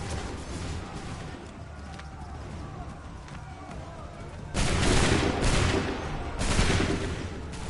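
Musket volleys crack out during an Assassin's Creed 3 battle: a steady din of scattered shots gives way to two loud, dense bursts of massed fire, the second briefly answering the first.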